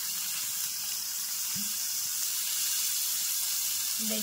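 Soaked dried fish (sukat) fries in oil on a tava, giving a continuous bright hiss and spatter with a faint low murmur briefly underneath.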